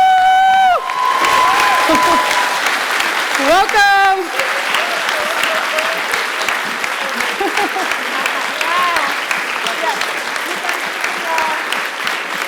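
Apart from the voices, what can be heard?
audience applause and cheering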